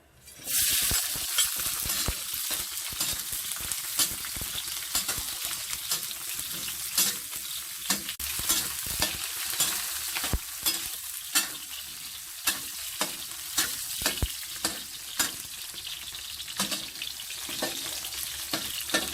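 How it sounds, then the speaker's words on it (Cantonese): Loud, continuous sizzling of garlic, shallots and ginger frying in hot oil, with a spatula scraping and clacking against the wok at irregular intervals. "我哋先爆一爆啲蒜頭啦、葱頭同埋薑先。"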